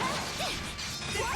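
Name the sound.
Flashball attack impact in video game Ys X Nordics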